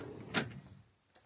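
A makeup drawer slides open with a single soft scrape and thump, quiet and close, followed by a faint click and room hush.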